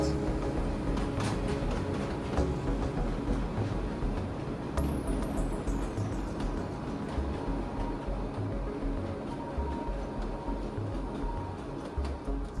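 The small Rhodope narrow-gauge train in Bulgaria runs through a tunnel, giving a continuous, enclosed rumble of wheels and engine with occasional clanks and a brief high squeal partway through.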